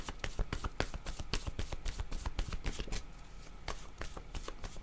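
Playing cards are shuffled and handled in a rapid run of crisp slaps and riffles, close and clear. The activity briefly eases, then picks up again with more card snaps.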